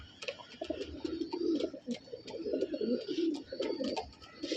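A pair of pigeons coo softly and repeatedly at close range, a low burbling call that rises and falls with short pauses, alongside a few light chirps and no talking.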